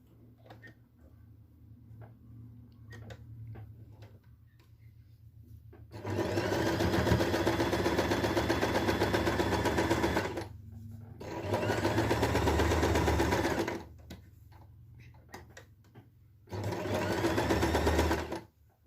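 A sewing machine stitches a kurak patchwork piece in three loud, sustained bursts of rapid mechanical whirring, with quieter pauses between where soft clicks and handling noises are heard.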